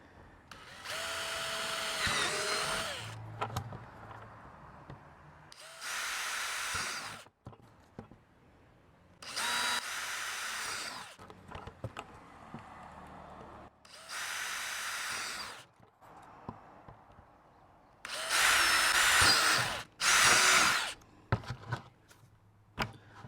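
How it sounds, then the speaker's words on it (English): A power drill bores holes into the back of a plastic bucket in several separate bursts, each a loud whining grind lasting a few seconds, with quiet handling noises between them. "drilling out a hole in the back of the bucket"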